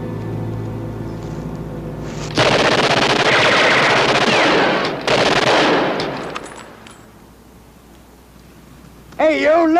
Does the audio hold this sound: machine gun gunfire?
yes